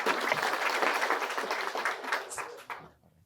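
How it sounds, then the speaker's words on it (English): An audience at an agriculture event applauds a speaker: dense, steady clapping from many hands that fades out near the end, with no voices over it. "And we clap hands for him again"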